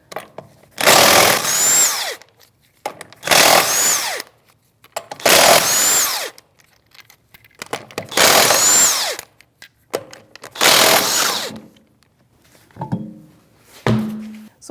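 Power tool driving a 19mm socket to remove a wheel on a Chevrolet Malibu, five loud whirring bursts of roughly a second each with short pauses between, followed by faint clinks of the socket and wheel.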